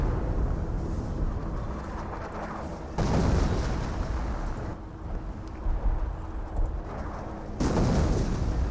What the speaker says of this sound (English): I heard explosion. Looks like another howitzer barrage onto the casualty recovery bunker.